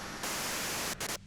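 Steady hiss of white noise static in the video game Disco Elysium, constant and moderately loud, briefly dipping and cutting out before a softer tail.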